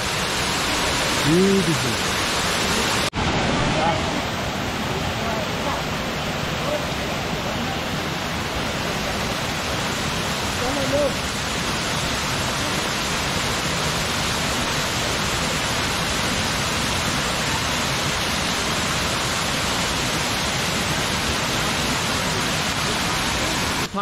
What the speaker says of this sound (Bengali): পাশেই দেখুন একটি ঝর্ণার ধারা নেমে আসছে, দারুণ স্ট্রিম